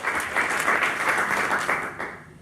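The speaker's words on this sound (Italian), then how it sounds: "che salutiamo con un applauso" Audience at a civic event on wine and sport in the Conegliano-Valdobbiadene area breaks into dense, steady applause greeting a provincial councillor, a close, even wash of many hands that thins out near the end.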